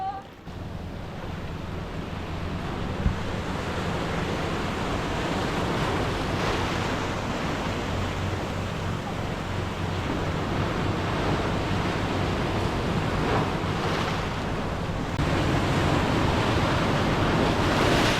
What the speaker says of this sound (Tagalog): Grabe yung alon dito